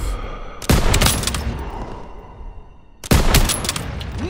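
Gunfire in a Call of Duty WWII battle: two loud, close bursts of rapid shots with sharp cracks, each ringing out and fading before the next volley.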